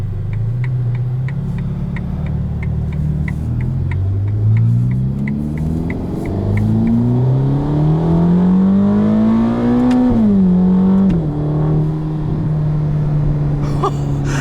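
A 2021 Ferrari Roma engine heard from the cabin at about quarter throttle, revving up through several gear changes as its tone climbs steadily, then settling, with a rapid indicator-like ticking in the first half.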